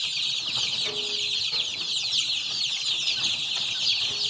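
Many young chicks chirp constantly and close up, a dense overlapping cheeping that keeps going without a break, with no voices over it.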